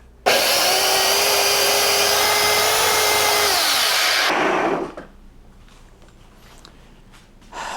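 Electric Snow Joe snowblower starts abruptly and runs at a steady, loud whirring whine for several seconds, then winds down to a low fading rumble.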